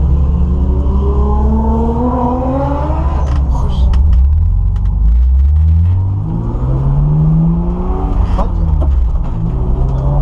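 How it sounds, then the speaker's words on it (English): A loud turbocharged 2ZZ-engined Toyota MR2 Spyder roars and revs at an autocross at Evergreen Speedway, pitch sweeping up and down through gear changes, with turbo noise, a steady heavy rumble throughout and a voice briefly under it. "That car is so loud, it's crazy. The turbo noise."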